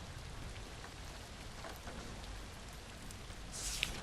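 Steady, even hiss of rain falling in a video game, a constant dense patter with a faint rumble underneath and no voices.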